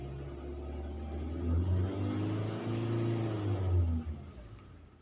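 A car engine revs up as gas is applied, a steady low hum swelling twice into louder rising revs before easing off, close and continuous with no talk.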